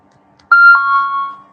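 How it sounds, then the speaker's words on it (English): An alarm sounds with a bright electronic double tone that sustains for about a second, loud and close, with no talk over it. "Let me turn that alarm off"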